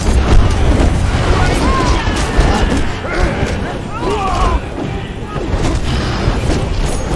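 Siege weapon shots from Conan Exiles blast out as deep, heavy booms over a dense, rumbling battle din. The low impacts run continuously and loudly through the scene, with a voice audible in the mix.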